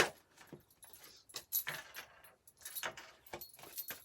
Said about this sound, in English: So let's shuffle the cards